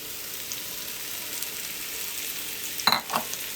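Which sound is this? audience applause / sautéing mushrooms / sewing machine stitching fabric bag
sautéing mushrooms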